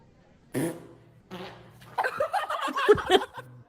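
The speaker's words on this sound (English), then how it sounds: "let's listen to these farts" Farts played back in a guess-the-fart game: a few short bursts near the microphone, followed by people laughing and chuckling.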